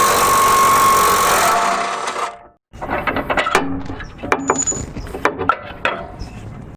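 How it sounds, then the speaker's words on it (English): Nuts and bolts being undone on the rear control arm of a BMW F2x/F3x: a loud, steady mechanical whir for about two seconds, a brief gap, then a series of sharp metallic clicks and clanks. "So we'll go ahead and undo these nuts and bolts and remove this arm."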